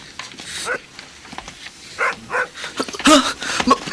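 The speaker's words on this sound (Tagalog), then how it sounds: "Atakihin ako ng malaking aso!" A big dog barks in a few loud, separate bursts near the end, close by, after a quieter stretch of faint rustling.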